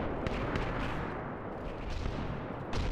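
Hydra artillery firing in a strategy video game, a dense, rumbling barrage of repeated booms and shots that continues throughout the short stretch, loud and without speech.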